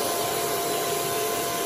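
Steady, loud rushing roar of a DIY carpet extractor vacuum pulling in spray mist, a constant broadband whoosh with a faint tonal hum, unbroken and without speech.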